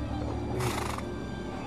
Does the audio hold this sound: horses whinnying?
yes